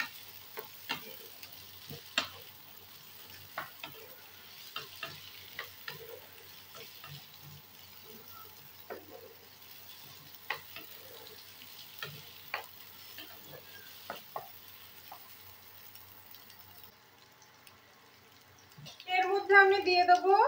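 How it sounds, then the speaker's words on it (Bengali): Chopped onions, potatoes and four small-cut green chillies fry in a pan with a steady low sizzle, punctuated by frequent light clicks and scrapes of stirring, before a brief different clatter at the very end. "এর মধ্যে আমি কুচানো আলুগুলো দিয়ে ভালোভাবে ভেজে নেব।"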